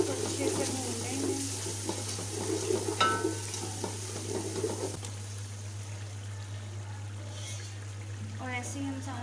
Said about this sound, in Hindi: अब इसको अच्छे से भून लेंगे।